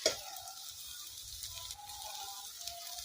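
Starchy rice water poured into a pan of taro flower curry with spices sizzles and fries in a steady, moderate hiss with faint stirring, close by and without talk.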